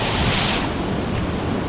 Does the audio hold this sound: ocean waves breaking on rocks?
yes